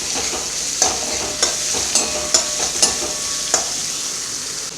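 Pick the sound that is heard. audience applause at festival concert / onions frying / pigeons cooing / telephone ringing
onions frying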